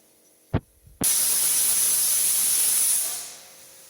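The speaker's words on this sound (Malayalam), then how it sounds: "നമ്മുടെ കുക്കർ വിസിൽ വന്നിട്ടുണ്ട്" A pressure cooker whistle blasts steam with a loud, sustained hiss that cuts in after a couple of small knocks, holds steady for about two seconds, then fades out.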